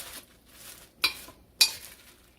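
Chicken meatballs tossed in buffalo sauce make soft wet stirring swishes, with two sharper clinks of a utensil against the pan, close and quiet.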